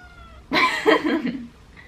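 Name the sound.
pet cat Minou meowing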